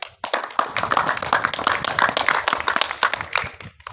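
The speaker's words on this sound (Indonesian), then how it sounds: "berikan aplaus untuk Sami" Students in a classroom give a round of applause after a presentation, a dense burst of many hands clapping close by that carries on for several seconds.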